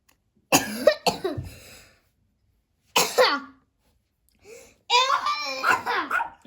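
A young child coughs in bursts, with a child's vocal sounds between them, close and fairly loud indoors during a drawing and toy playtime session.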